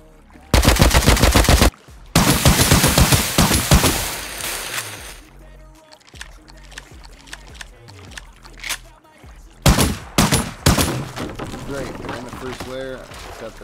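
Rapid bursts of incendiary-ammo gunfire ring out during a raid in the survival game Rust, loud and close, in several long volleys separated by short gaps and scattered single shots.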